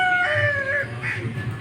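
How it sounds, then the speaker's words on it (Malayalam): A rooster crows once at close range early in the morning, giving a short, strained, harmonic call that rises and trails off, followed by a brief second note. "ദേ കൊക്കരക്കോഴി കിടന്ന് കൂവുന്നു."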